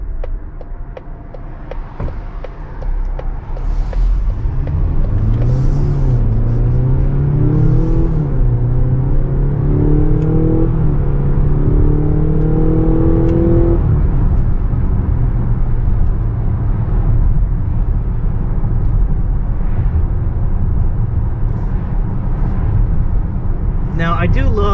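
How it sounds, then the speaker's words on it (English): A 2025 Mazda CX-70 PHEV plug-in hybrid accelerates hard from 0 to 60, heard from inside the cabin as a loud, steady drone with engine pitch rising through the gears, continuous for about twenty-five seconds. "Let's do a 0 to 60 run here, as best we can, of course."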